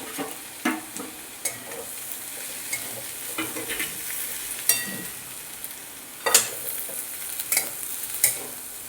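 Ginger-garlic paste and chopped green chillies fry in fish oil in a pan, giving a steady close sizzle broken by sharp scraping clinks of a spatula stirring every second or so.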